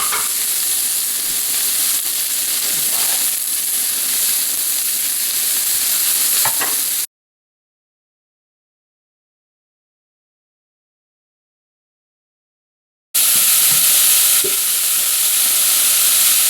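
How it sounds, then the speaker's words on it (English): Beef for barley soup dropped all at once into a hot pot, giving a loud, continuous sizzling hiss with occasional crackles and stirring, interrupted by a long silent stretch before the searing returns. "Now, the beef goes in. I'm putting it in all at once."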